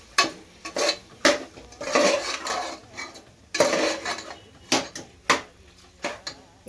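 Cooked mutton is stirred into biryani masala in a pot, with a spoon knocking and scraping against the metal in repeated clanks and softer wet stirring between them, close and alone.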